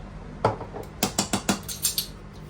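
A spoon clinks against a bowl while cinnamon powder is stirred into plantain and oats porridge, about eight quick, close scraping taps in an uneven rhythm.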